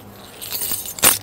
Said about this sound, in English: Take, these are the keys.